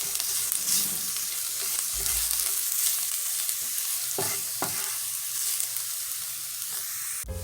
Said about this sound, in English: we're going to add in our minced garlic and also our Italian seasoning, and we're going to saute that for 1 minute